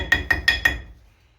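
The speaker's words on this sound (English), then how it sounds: "I'll probably still tap it down some with the hammer." A hammer taps a metal part on a Case 680CK backhoe loader, four sharp ringing blows in quick succession, close and loud, then fading out.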